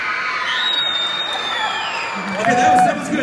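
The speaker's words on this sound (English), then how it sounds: "I want you to scream as loud as you can." A crowd of children at a Sunday church family event screams and cheers together after a count, a broad roar that swells louder toward the end with whoops mixed in.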